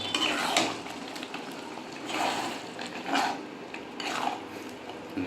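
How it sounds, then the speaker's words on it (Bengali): Spoon stirring fish-head masoor lentil dal with potatoes in a pan, soft repeated scraping and liquid swishes in a steady rhythm, close and moderately quiet. "এখন নেড়ে দাও।"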